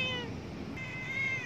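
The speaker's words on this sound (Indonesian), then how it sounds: "nah ini ada kucing lagi" A cat meows outdoors near a stadium during a morning jog: one clear, fairly close meow at the start and a second, longer one near the end, both over steady outdoor background noise.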